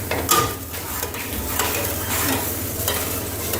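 Mysore Pak mixture cooking in hot ghee and oil, with a steady close sizzle and frying crackle, faint stirring, and light scrapes of a utensil against the pan.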